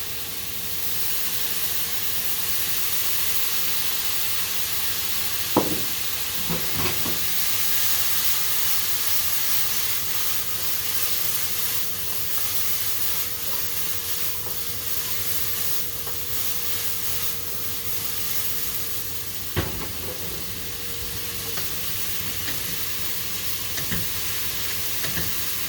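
Green beans fry in a hot pan with a splash of soy sauce, giving a steady close sizzle and hiss with a few sharp spatters and stirring scrapes along the way.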